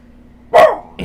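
A dog gives a single sharp, loud bark up close after a quiet pause, with a brief second yelp starting right at the end, in an otherwise calm indoor room.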